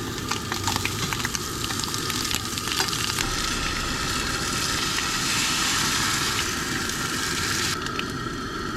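Breakfast fries in a pan, a loud, steady sizzle that stays close and continuous throughout, with occasional stirring and scraping noises and no talking.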